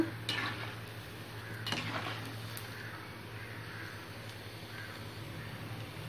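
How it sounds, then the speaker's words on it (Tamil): Leftover upma bondas deep-fry in oil: a faint, even bubbling hiss sits beneath a constant low electrical hum, with a couple of soft utensil taps near the start. "ஆயிலில் நல்லா ஃப்ரை ஆகிட்டுருக்கு"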